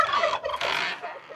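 A close, loud turkey gobble, a rapid warbling burst that comes in two quick surges.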